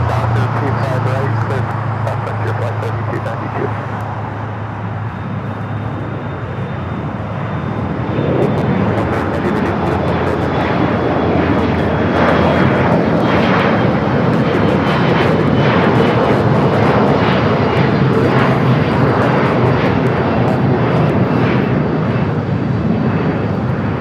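A Boeing 747 airliner on short final approach at LAX, its broad jet engine roar building steadily and staying loud throughout, blended with distant traffic while people talk underneath.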